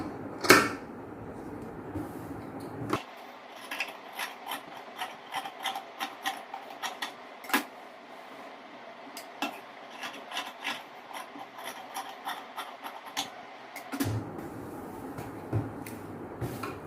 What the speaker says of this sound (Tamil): இந்த பீஸை வந்து அப்படியே நான் கட் பண்ணிக்கிறேன்